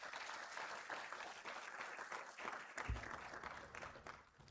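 An audience at a graduation ceremony applauds in a steady, fairly faint wash of clapping that holds throughout and thins slightly toward the end.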